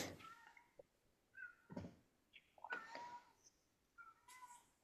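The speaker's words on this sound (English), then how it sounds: "that stupid neighbor cat's over bothering my cat again." A neighbor's cat yowls outside near a house cat, several separate drawn-out cries with pauses between them, fairly faint against a quiet background.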